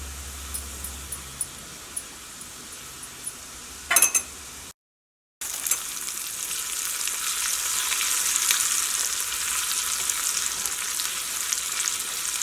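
Garlic, cumin and chili powder fry in hot coconut oil, giving a steady close sizzle with a few clinks of a stirring utensil and a short break before the frying swells again.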